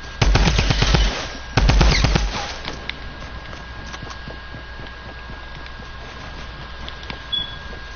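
Bursts of rapid automatic gunfire from a video game weapon, two loud volleys in the first three seconds, then quieter background game sounds.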